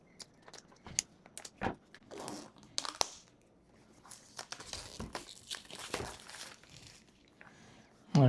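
Thin plastic protective film is peeled off a brand-new phone. Close, crinkly crackles and short tearing rustles come in irregular bursts with quiet gaps between them, and a brief louder thump at the very end.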